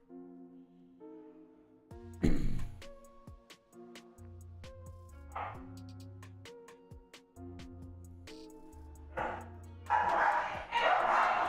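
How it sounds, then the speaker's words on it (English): Dogs downstairs bark and yip in short, intermittent bursts, heard indoors at a moderate distance, with a brief flurry of sharper barks near the end. "Shit got real between the dogs downstairs for a second."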